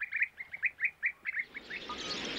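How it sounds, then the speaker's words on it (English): A colony of carmine bee-eaters at riverbank nests gives a quick series of about a dozen chirping calls in a steady rhythm, fairly close and clear, then fading into a soft wash of noise. "a busy colony of carmine bee-eaters jostles for nest space"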